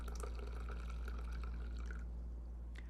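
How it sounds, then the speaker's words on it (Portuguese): Water pours from a kettle spout into a coffee filter set over a green coffee pot, a soft close trickle and splatter that stays steady and then eases off. "Bico da chaleira derrama água no coador com café sobre um bule verde."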